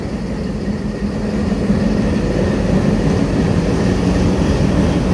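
A steady, loud low drone of locomotive 6522 hauling the five-coach Nakshikatha commuter train, a continuous rumbling engine and rolling noise that holds even from start to finish.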